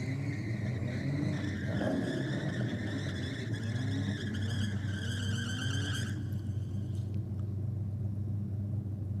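Ford Focus XR5 and a white Holden Commodore drag racing, a steady loud engine rumble and drone with rising whine that cuts off near the end as the cars pass the finish line.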